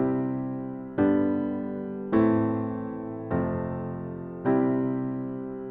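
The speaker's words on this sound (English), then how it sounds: "Block chords, root position, every time, no variation." Five piano block chords in root position are struck one after another at an even pace, each ringing and decaying before the next, with no variation and no voices.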